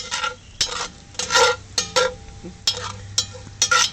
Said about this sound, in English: Sizzling pretty nicely.